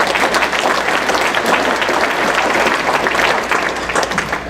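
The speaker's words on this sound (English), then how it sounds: "Let's give him another round of applause." A Rotary Club luncheon audience claps loudly in a sustained round of applause, thick overlapping hand claps filling the room, fading slightly toward the end.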